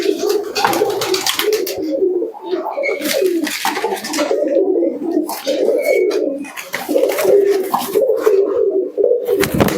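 Malbai pigeons coo in a loft, repeated throaty rolling coos close by, overlapping in an uneven rhythm with a faint chirp or two, and a voice murmurs in the background.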